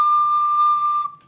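A recorder plays a D with the back thumb hole open. The single bright, steady, whistle-like tone is held about a second and then cut off, close and solo.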